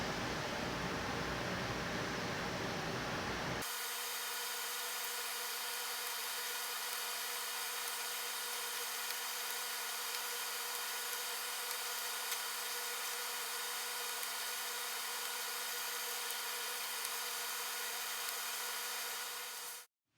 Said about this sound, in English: Here I took this block sander and sanded down the inlays